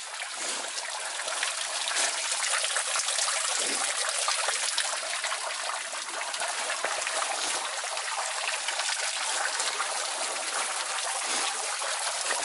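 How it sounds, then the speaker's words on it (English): Steady, loud rushing of water pouring down a small waterfall, a continuous broadband gush with no pauses or voices. "this little waterfall here is, I mean, it's a really gushing."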